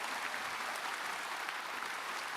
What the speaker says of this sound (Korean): 박수로 하나님께 박수 치라